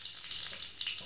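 Dried red chillies hiss and crackle in hot oil in a wok: a steady, close, bright sizzle that runs unbroken for about a second, with no voices.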